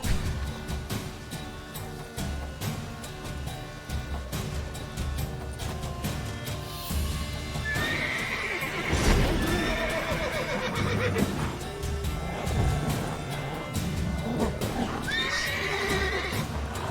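A horse in the video game Witcher 3: Wild Hunt neighs loudly, followed by a second whinny, amid hoof clip-clops and busy background game music and effects.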